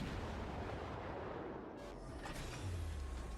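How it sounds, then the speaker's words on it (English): Naval shell fire from warship guns in World of Warships, heard as a continuous rumbling barrage of deep booms, steady and loud throughout with low thuds near the end. "And the shell fire commences."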